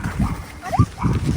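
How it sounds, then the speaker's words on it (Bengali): A dog near a hill-station path in Kurseong, Darjeeling, gives a short whimpering yelp, close and brief, amid outdoor background murmur. "কুকুর আছে"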